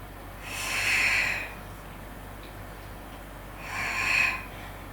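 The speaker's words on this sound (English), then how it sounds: "exhale as you lower down" Two long, breathy exhalations during an abdominal toning exercise, each lasting about a second, close and fairly loud, separated by quiet room tone.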